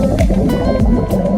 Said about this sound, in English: Oh, these are big bubbles,